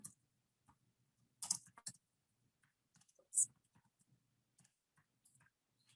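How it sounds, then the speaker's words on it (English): Faint, sparse clicking of keys on a computer keyboard, heard as irregular taps and short bursts of typing nearby in a quiet room, with no talk. "And I'm typing this in."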